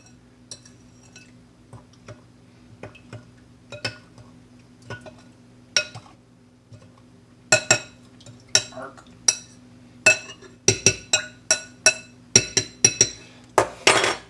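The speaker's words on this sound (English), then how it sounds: "And we'll just stir this up nicely." A spoon stirs a yeast and sugar mixture for bread in a bowl, giving light clinks against the bowl that start sparse and faint, then turn quicker and louder.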